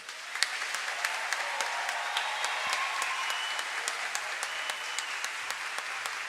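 Steady audience applause fills a formal legislative chamber ceremony welcoming a state deputy, dense even clapping sustained throughout at moderate level, with no talk over it.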